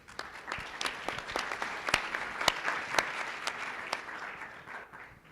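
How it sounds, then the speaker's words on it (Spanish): Audience at a panel on water management applauds to welcome a panelist, a warm round of mixed clapping with several louder nearby claps punctuating a softer crowd wash, fading slightly toward the end. "Les pido también lo recibamos con un fuerte aplauso"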